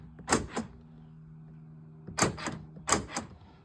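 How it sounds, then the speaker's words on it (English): The power door locks on a 2013 Chevy Avalanche LTZ clunk in three quick actuations, each a short double thud with a pause after the first, close by and fairly quiet with no talk. "Door locks."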